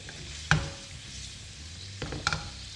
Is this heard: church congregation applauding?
no